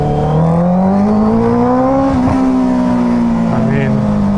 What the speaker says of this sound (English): This badass exhaust.